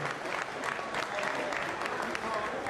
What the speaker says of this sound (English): Round of applause for B.